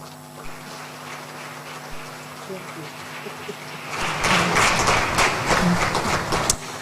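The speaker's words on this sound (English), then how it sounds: "Another round of applause for the Chief of Staff." An audience at an International Women's Day 2022 event breaks into applause, which swells over the last few seconds after a quieter stretch.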